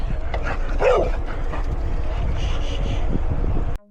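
Dogs bark and growl outdoors at a cyclist. One short bark stands out early, and the rest is rough and low under heavy wind buffeting on the microphone.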